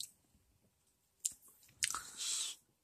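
Crispy chocolate wafer roll being bitten and chewed up close, with quiet scattered crackles, a couple of sharp crunches and a short burst of crisp crunching near the end.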